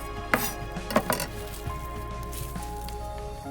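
A knife slices an onion on a cutting board, making a few sharp, close chopping clicks early on and softer taps later, over a faint background hum. No one speaks.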